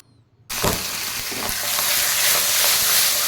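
Boal fish drops into hot oil in a wok for a tel jhal curry. After a short quiet moment comes a sudden loud sizzle that holds steady and grows slightly, with crackling spits and no speech.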